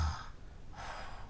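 A voice imitates a snore for a children's story about a sleeping lion, with a raspy breathy intake, a pause, then a second drawn-out breath, close and fairly quiet, with no talking.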